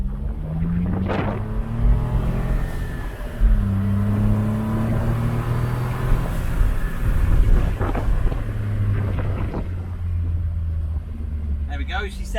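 Low engine rumble from a Smart Fortwo W450 fitted with a DIY Brabus-inspired sport exhaust, rising in a couple of rev bursts and settling back, close by with speech over parts of it.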